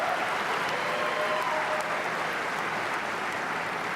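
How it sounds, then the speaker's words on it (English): A room applauds the bartenders and servers at a 2022 Northwest Mountain Region event in Denver, a continuous wash of clapping at an even level for the whole stretch. "give a round of applause to them"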